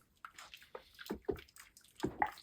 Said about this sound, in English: Kosher salt and Dawn dish detergent. This just makes the color pop, brings it out more. Get that thing a good old stir.